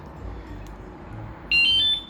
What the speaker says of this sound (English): I had to have the alarm. So let's go ahead and turn that on.